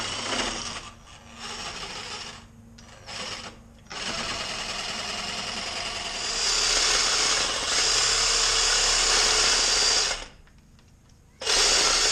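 A power tool cuts through a tractor PTO shaft and its plastic housing, shortened for a bush hog, running loud and steady with brief pauses and restarts, a high whining buzz near the mic.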